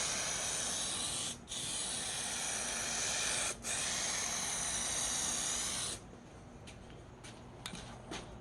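Gray spray paint hissing from a can onto interior trim panels of a 2000 Volkswagen Eurovan, a loud continuous close spray broken by two brief pauses, then stopping and leaving faint light clicks and handling noise.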